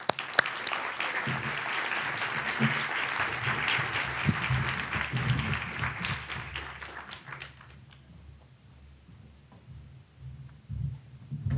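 An audience applauding to welcome a speaker to the stage at a lecture, steady sustained clapping from a crowd that gradually thins and fades toward the end, with a few scattered claps lingering.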